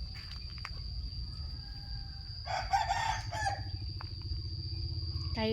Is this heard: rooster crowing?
yes